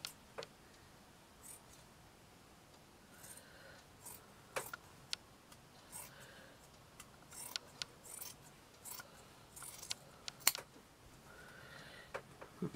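Scissors snipping through material while making a crochet hook holder, a series of short, quiet, crisp cuts spread irregularly across the clip, close by and with no talking.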